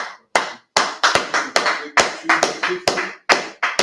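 Sharp, close handclaps in an irregular run of about a dozen loud smacks, each with a short ringing tail in a room, separated by brief silences, with no speech over them.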